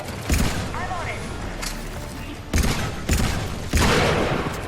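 A slow-firing powerful pistol in Mass Effect 3 on PS3, with a few heavy, widely spaced shots booming out over game ambience while someone talks.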